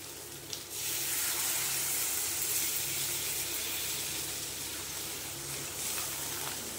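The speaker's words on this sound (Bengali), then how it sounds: "এই যে আমার মাংসটা কষা হয়ে গেছে, এইবারে দিয়ে যাবো বন্ধুরা জল।" Water is poured into a pan of browned chicken for dhaba-style chicken do pyaza. After a short pause, a soft, continuous splashing hiss starts and runs on steadily at low volume.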